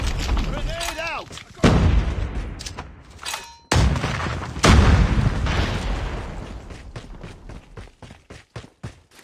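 Booming grenade blast followed by rolling gunfire in Call of Duty: Mobile ranked multiplayer, loud heavy explosions and a trailing series of sharp shots, with brief voiced callouts.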